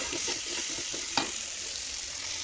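Potatoes fry in a pan with a constant bright sizzle while a utensil stirs them in a few soft scrapes, one sharper clink near the middle.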